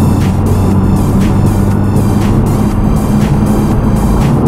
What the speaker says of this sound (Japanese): 今85キロで走ってるんですが、ここからちょっと100キロまで速度を上げてみます